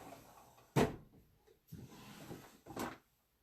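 A bottom drawer in a craft room stamping area opens or closes with a sharp wooden knock, followed by two softer rattling slides a second apart, close by with no talking.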